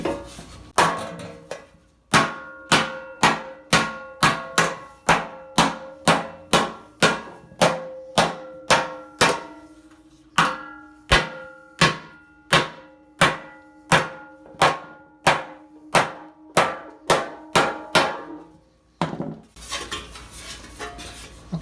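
A steel breastplate being hammered into shape, a long series of sharp, ringing metallic blows at a steady rhythm, close and loud, with a brief pause partway through.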